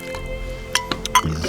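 Fatty Yakutian taimen fish soup (ukha) ladled into mugs outdoors, with a few soft liquid pours, drips and clinks of the ladle against the mugs, close by under a low steady hum.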